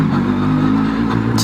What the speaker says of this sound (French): Petite Camaro.